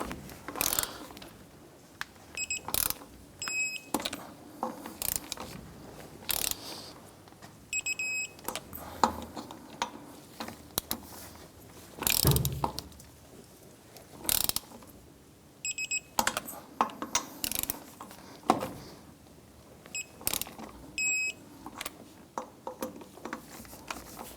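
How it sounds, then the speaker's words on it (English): Torque wrench tightening the lug nuts on a 1994-2004 Chevrolet S10 to 95 foot-pounds: sharp ratcheting clicks and metallic clacks come in repeated bursts across the clip, close and fairly loud, with no talking. "Let's go ahead and torque down our lug nuts to 95 foot-pounds."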